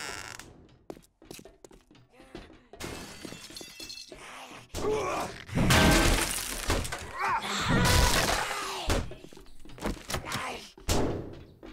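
Bulletproof glass breaks in the survival game 7 Days to Die in a string of heavy crashing impacts and shattering bursts, loud and irregular with gaps between blows, with a voice heard briefly among the noise.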